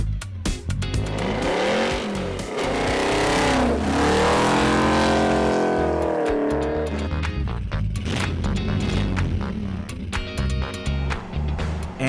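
A Hemi V8 muscle car engine revs hard and loud, its deep, rising roar swelling and falling in waves with sharp throttle blips near the end, no talk over it.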